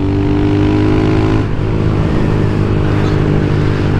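A Honda Fan 150 motorcycle engine revving hard for a wheelie, a loud close buzzing drone that drops pitch partway through as the clutch is worked, then climbs again.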